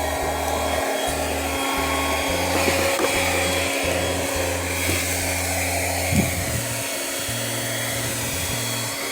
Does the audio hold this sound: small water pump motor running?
yes